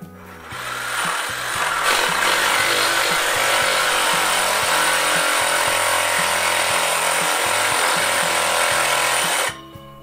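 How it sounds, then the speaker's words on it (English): A 6-inch carbide grit disc grinds into aluminum chain-link fence pipe, a loud, steady abrasive whine with choppy low-end fluctuation that runs almost continuously before cutting off abruptly near the end. "carbide grit against what I believe is probably aluminum."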